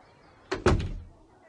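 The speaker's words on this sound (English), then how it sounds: "And the woman closed the door." A door shuts in a quiet room with two quick knocks of impact followed by a short fading rumble, alone and fairly close.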